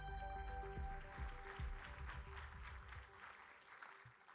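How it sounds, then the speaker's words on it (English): An audience at an astronaut panel session of a spaceflight conference applauds the moderator, a continuous spread of clapping from a large room heard faintly, easing off toward the end. "Please give him a round of applause."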